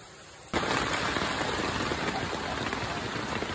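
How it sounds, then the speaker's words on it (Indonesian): A quiet night at a campsite breaks into loud, dense rain beating down steadily on a surface, a continuous heavy hiss with scattered drops, no voices. "Hujan lebat."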